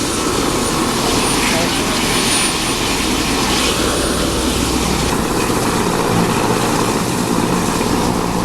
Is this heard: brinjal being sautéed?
no